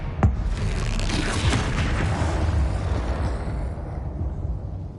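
A Confringo spell explosion in the Hogwarts Legacy video game, a sharp loud blast followed by a long roaring rumble that slowly fades over several seconds, with no talking.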